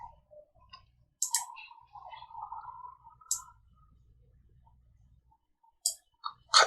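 Computer mouse clicks and keyboard key presses in drafting software come as sparse, sharp, close taps spread out over the quiet, with long silent gaps between them.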